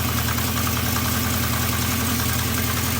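A Honda CB350 motorcycle engine idles steadily with carburettors in need of balancing, a loud, even, close-up rumble with a regular pulsing beat throughout and no talking.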